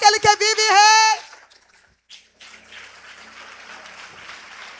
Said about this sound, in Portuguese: Dá uma salva de palmas para aquele que vive e rei.